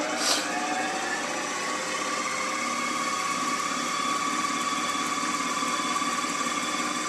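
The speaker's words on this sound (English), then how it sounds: "If I could get my wheel to slow down, it would be better. But it's an old-fashioned gear motor" An old-fashioned gear motor drives a potter's wheel during a throwing demonstration, giving a steady mechanical hum with a faint whine that runs unchanged and close throughout, with no talk.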